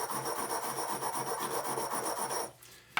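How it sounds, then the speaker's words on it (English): Lead buildup is scrubbed off an AAC Tirant suppressor piston housing with rapid, rhythmic back-and-forth rasping strokes, close and steady, stopping abruptly near the end before a brief clack. "Now what I'm doing here is cleaning up the piston housing"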